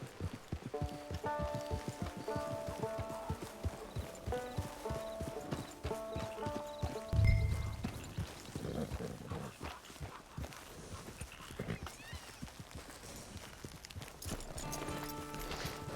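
Steady clip-clop of horse hooves at a walking pace in Red Dead Online, fairly faint, with a brief low thump partway through and soft ambient music.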